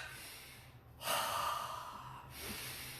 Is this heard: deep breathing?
yes